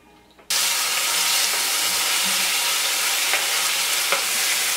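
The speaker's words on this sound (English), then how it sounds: "So I'm just going to fry the tomatoes up a little." Tomatoes, pepper and onion fry in a pan with a loud, steady sizzle that bursts in after half a second and holds a dense hiss throughout, with faint stirring clicks.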